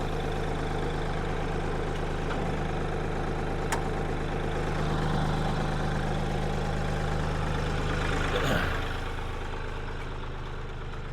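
A tractor engine idles steadily at close range on a homestead garden plot, a continuous low rumble with a faint brief clunk near the end and no speech.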